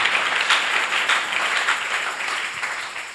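Church congregation clapping and applauding together at a pastor's birthday service, a steady, dense wash of hands that stays loud throughout and slowly tapers toward the end, with no talk over it.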